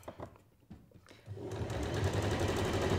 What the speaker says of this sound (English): So we'll just keep sewing it up like this.